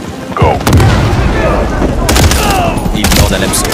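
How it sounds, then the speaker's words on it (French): Loud blast of a placed charge in Call of Duty MW3, followed by a heavy volley of gunfire and booming impacts that keep going in bursts, with voices talking over the combat. "Charge placée. Charlie, pareil. Attention à l'explosion."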